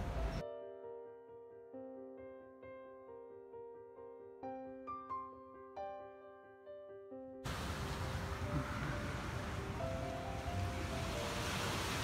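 Ocean waves on a beach at Couples Negril, Jamaica, heard as a steady wash of surf after several seconds of tonal music that opens the sequence.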